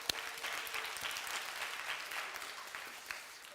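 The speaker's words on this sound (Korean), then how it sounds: "우리 오케스트라 친구들 수고했는데 박수 한번 부탁합니다." Applause for a children's orchestra at a church service, a steady, moderately loud patter of many hands clapping with a few sharper individual claps standing out.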